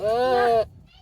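A single drawn-out bleat from a male goat, loud and close, wavering for over half a second before cutting off into quiet background noise.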